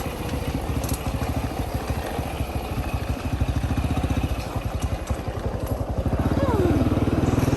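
A motorcycle engine climbing uphill chugs steadily and rises in pitch as it revs harder near the end, with a rattling, sputtering exhaust throughout.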